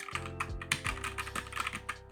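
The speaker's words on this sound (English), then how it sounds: "Multicolored keyboard, mechanical." A multicolored mechanical keyboard is typed on in a quick, uneven run of crisp, clacky keystrokes, close and clear with no talking.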